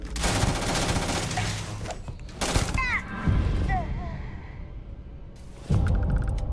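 Gunfire in the space video game Starfield comes as loud repeated bursts of shots that cut in and out, mixed with game effects and background sounds.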